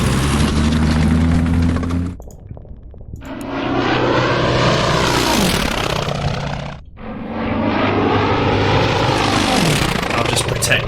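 Fighter planes in the Order of Battle Pacific campaign roar past in two loud sweeping flybys, each engine drone rising and falling, following a steady low engine hum at the start.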